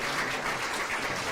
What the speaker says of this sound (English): give a big round of applause to Brian Kinsel as our outgoing board president